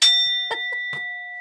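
A bell strikes once at the start and rings on with steady sustained tones, while brief vocal sounds come and go over the fading ring.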